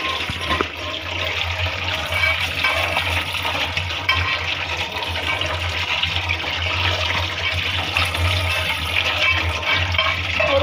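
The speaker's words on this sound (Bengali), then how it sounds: "এটা পানিটা ঝরাই নিব নুডলসে।" Water pours off boiled noodles as they are drained, a loud, continuous rushing splash that holds steady for about ten seconds with no talking.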